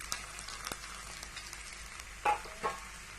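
Cloves and asafoetida with a little onion frying in oil for dal give a faint, steady sizzle with soft crackles, broken by two brief louder pops or clinks near the end.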